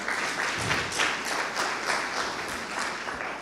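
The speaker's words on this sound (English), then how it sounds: "Let's give them a round of applause." Conference audience at a CEO forum applauds, a dense, steady wash of many hands clapping that sustains throughout without pause.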